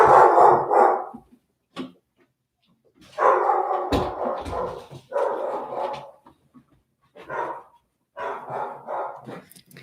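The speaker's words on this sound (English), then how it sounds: "my dog barks because she wants to say hi" A pet dog barks in bursts indoors at home, several loud close barks with gaps between them, some sounding like eager whines, set off by a neighbor's dog.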